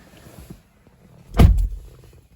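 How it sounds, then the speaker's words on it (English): A solid thunk of a 2015-2019 Subaru Outback 2.5i Touring door shutting midway through, preceded by faint rustling inside a quiet cabin. "I'll close the door"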